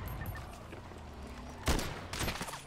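Police gunfire in a GTA roleplay game: two sharp broadband bursts of shots stand out, one near 1.7 seconds and a rougher cluster around 2.2–2.5 seconds, over a steady low background din.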